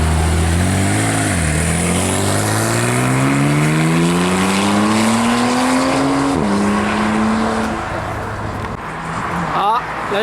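A Lamborghini Murcielago SV supercar pulls away at a Cars & Coffee meet in Arlon, its loud engine note climbing steadily through the gears, dipping at a shift, then fading as it drives off.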